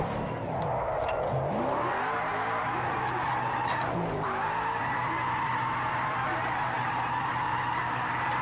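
A Ford Mustang RTR drifting in the racing game Project Cars 2, with a continuous loud engine roar and tyre squeal sliding up and down in pitch through the turns, steady and close.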